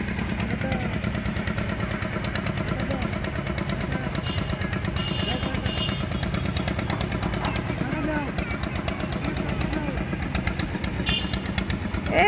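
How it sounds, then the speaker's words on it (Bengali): A boat engine on a river draws closer with a steady, throbbing drone that runs unbroken and fairly loud, while voices talk over it. "একটা নৌকা আসছে।"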